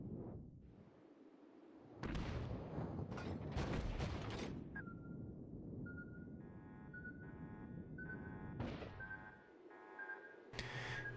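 Battleship secondary guns firing in World of Warships from a Myogi battleship, a cluster of sharp blasts followed by mechanical whooshes and tonal game beeps.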